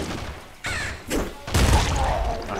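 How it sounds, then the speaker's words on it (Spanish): Bursts of gunfire in the video game Nuclear Throne, several loud, sharp volleys stacked in quick succession with booming low-end impacts, the densest burst near the end. "Te juro que no sé de dónde viene esos disparos"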